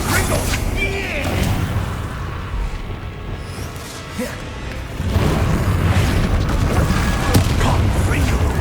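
Confringo fire spell blasts in Hogwarts Legacy, loud booming bursts over a dense rumbling battle din that grows heavier halfway through, with game voices speaking throughout.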